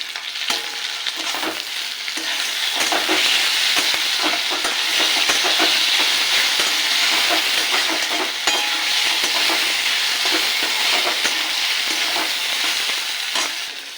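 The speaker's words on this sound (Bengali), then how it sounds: "আদা রসুন বাটা আর দিচ্ছি কাঁচা লঙ্কা বাটা এটাকে একটু ভেজে নেব" Ginger-garlic paste and green chilli paste fry in hot oil for a spicy Bombay duck fish curry, a loud, steady sizzle with frequent spatula scraping throughout.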